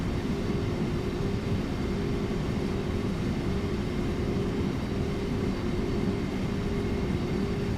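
MRCE BR182 electric locomotive hauling freight at full throttle in Train Sim World on the Kassel–Würzburg high-speed line, a loud steady traction drone with constant rolling rumble and no talk.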